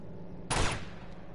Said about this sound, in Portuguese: Agora eu dou um tiro ali no meio.